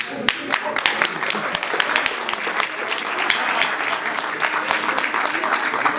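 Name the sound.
audience applause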